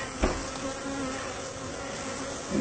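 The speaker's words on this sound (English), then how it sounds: "So I'm going to go ahead and vacuum these bees first and pick this stuff up." Honey bees hum around an opened hive during a removal, a dense, continuous close-up buzz with a brief bump near the start and no talk.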